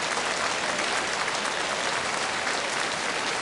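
Crowd at a bowls match applauding, a steady, even wash of clapping at moderate distance throughout the short stretch, with no voices standing out.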